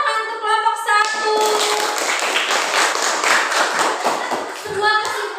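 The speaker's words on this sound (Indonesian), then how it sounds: "tepuk tangan untuk kelompok 1" Classroom of students applauding a group after its presentation, a dense wash of clapping that swells after the first second and holds steady, with a voice speaking briefly at the start and end.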